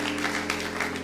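A church congregation applauding during a sermon, steady dense clapping that holds at an even level throughout over a faint tonal hum.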